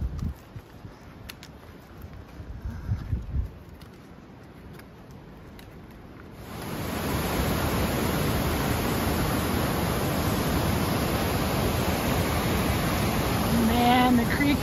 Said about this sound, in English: Man, the creek is raging.